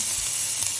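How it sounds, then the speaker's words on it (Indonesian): Soaked rice goes into a hot pot while cooking nasi mandy, giving a loud, steady sizzle and hiss that holds evenly throughout, with no voices. "Okay, masukkan beras yang saya telah rendam."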